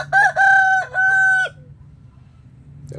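A rooster crows nearby, one loud drawn-out call broken into a few bright segments, then the sound cuts off to a quiet background.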